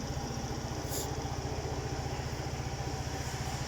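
Small RKS Bolero 50 cc scooter engine idling steadily after a first start, a continuous close-up putter with fast even pulsing throughout, no talk.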